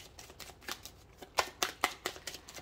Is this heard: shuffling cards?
yes